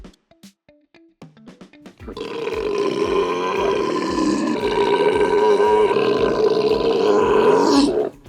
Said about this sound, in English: a genuine, earth-shattering belch performed live on set